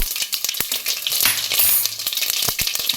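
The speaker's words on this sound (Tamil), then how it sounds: "முதல்ல கடுகு கொஞ்சம் உளுத்தம் பருப்பு போட்டுக்கிறேன் இது நல்லா பொரிஞ்ச அப்புறம்" Mustard seeds and urad dal splutter in hot oil for a South Indian lunch box dish, a quick run of sharp pops and crackles close by, with no talking.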